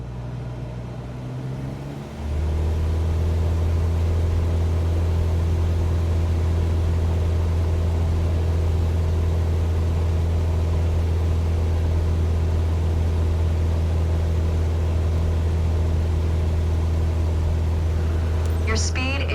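A single-engine training aircraft in Flight Simulator 2024 throttles up to 2,400 RPM, its steady engine drone stepping up sharply after about two seconds into a loud, constant hum, with a voice speaking over it.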